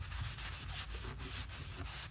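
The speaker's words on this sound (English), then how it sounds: "Wipe off the excess." A rag wipes excess stain off a piece of wood in steady, back-and-forth rubbing strokes, faint and close, with no talking.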